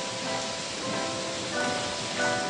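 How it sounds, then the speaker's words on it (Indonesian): Rain falls outside the Radio Inyong 549 AM station, a steady, even hiss that swells slightly in places. "Pagi ini pas hujan di stasiun Radio Nyong"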